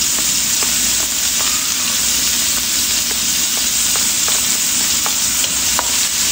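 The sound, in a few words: sautéing garlic, onion and scallions in a pan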